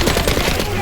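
A short, loud burst of rapid video game gunfire in Mouse: P.I. For Hire, a steady run of close shots with voices mixed in.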